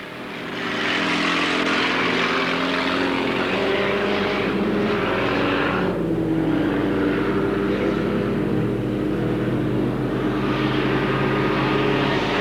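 Race cars lap Alwalton Raceway in 1983 with a loud, steady engine roar that stays constant throughout, one car's note dipping briefly as it passes close by.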